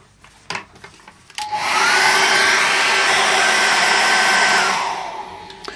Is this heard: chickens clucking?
no